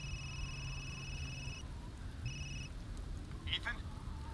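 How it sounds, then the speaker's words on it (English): A phone in the Resident Evil Village video game rings with two short electronic trills separated by a pause, set against low ambient game noise. "Oh, my phone rings."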